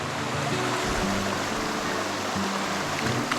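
A forest waterfall pours in a steady, full broadband rush of water, constant and fairly close, with a faint low tonal hum running underneath and no talking.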